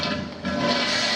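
A toilet, called a commode, flushes in a remodeled 1950s Dallas house, a short close rush of water that dips briefly and then surges on steadily.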